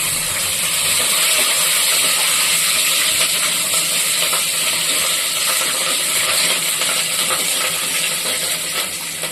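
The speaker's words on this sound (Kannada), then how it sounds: "ಮೆಣಸಿನ್ಕಾಯಿ ಕಟ್ ಮಾಡ್ಕೊಂಡು ಹಾಕ್ಕೊಂಡು ಸ್ವಲ್ಪ ಅದು ಫ್ರೈ ಆಗಬೇಕು" Cut green chillies frying in a pan for soya paneer pulao give a steady, loud, dense sizzle and hiss that runs unbroken throughout with no voices.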